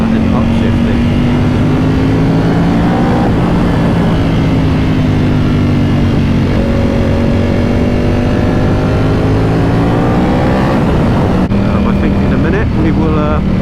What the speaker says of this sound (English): only imagine the noise this makes from the outside when you're ripping through the gears like that and upshifting